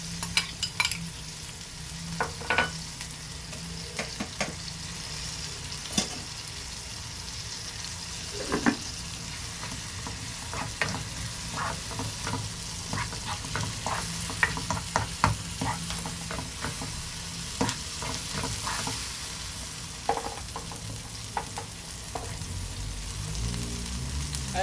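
Garlic and onion fry in coconut oil in a pan, a steady crackling sizzle with frequent stirring scrapes and clicks, close and continuous with no talk.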